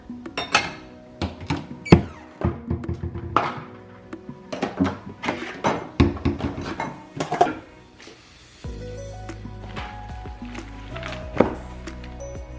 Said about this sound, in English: I'm gonna put away all these dishes, put them in their homes